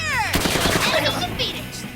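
Gunfire from the tactical video game Persona 5 Tactica, a rapid burst of loud, close shots with sharp impacts and ringing tails filling the whole moment, with no talking over it.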